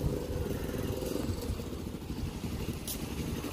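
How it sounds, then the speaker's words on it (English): A motorcycle engine runs steadily at close range, a dense low rumble that holds even loudness throughout with no pauses, apparently idling or cruising without talk over it. "Bike."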